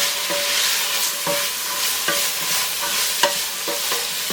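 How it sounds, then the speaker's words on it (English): Carrots, celery and diced onions sweat in a pot for minestrone soup, with a loud continuous sizzle and a spoon scraping and stirring at a roughly regular pace. "I'm going to add the carrots, celery and the diced onions"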